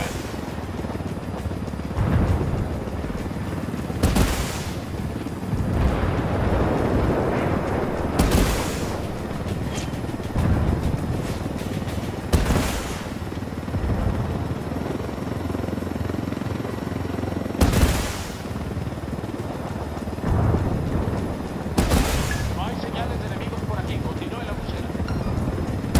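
Gunfire and explosions in the Ghost Recon Wildlands video game: repeated sharp blasts and bursts every few seconds over a constant rumbling engine-like drone, with voices talking throughout.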